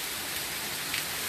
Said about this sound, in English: Yep, heavy rain.